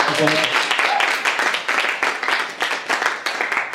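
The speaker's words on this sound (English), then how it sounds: "a big round of applause for everybody that helped out tonight" A room of participants at a Vancouver Changecamp closing session gives a loud, close round of clapping that carries on steadily for several seconds, with a voice briefly heard at the start.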